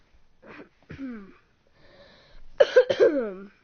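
A person coughs in several harsh, close bursts, the last ones loudest and clustered together, with brief quiet gaps between.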